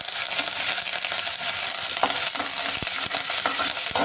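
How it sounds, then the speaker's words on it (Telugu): Urad dal, cumin and curry leaves sizzle and crackle steadily in hot oil for semiya upma, a close, even frying hiss with a few small pops and no talking. "ఆ తర్వాత మినపప్పు, జీలకర్ర వేసుకోవాలి. ఇలా వేసుకొని కరివేపాకు కూడా వేసుకోవాలి."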